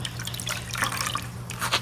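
Coconut milk dripping and trickling as grated coconut is squeezed by hand, a close, continuous wet patter with splashes under a low steady hum.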